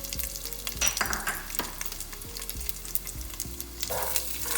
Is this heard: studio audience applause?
no